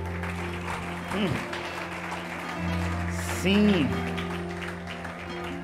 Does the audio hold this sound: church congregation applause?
yes